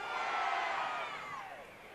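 Stadium crowd at a USL playoff soccer match between Sacramento Republic FC and Swope Park Rangers, a short swelling roar of cheering that fades, distant and broad.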